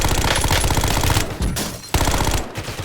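Loud, rapid bursts of automatic gunfire in the video game Warzone, close and sustained with brief pauses between volleys.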